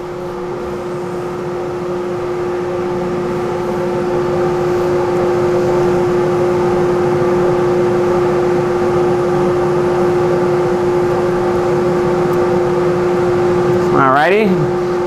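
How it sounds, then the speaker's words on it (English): An Ultra t SCS 124 substrate cleaning system spinning down at the end of a cleaning recipe, a steady mechanical whir with a strong sustained tonal hum, running continuously throughout with a brief rising-and-falling wobble near the end. "What I'll do is let this spin down for the last 40 seconds."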